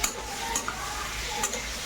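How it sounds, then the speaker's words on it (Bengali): Meat sizzles loudly in a pan, broken by a few sharp scrapes and clinks of a utensil against metal. "মাংসটা এখন ভাজা হচ্ছে"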